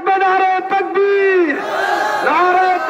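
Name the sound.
crowd chanting takbir (Allahu Akbar) in response to preacher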